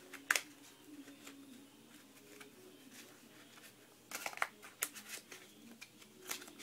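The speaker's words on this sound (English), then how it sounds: "Shuffling the deck" Playing cards being shuffled by hand, a slick deck giving short papery riffle bursts near the start and a cluster of crisp flutters in the second half, close and fairly quiet with no talking.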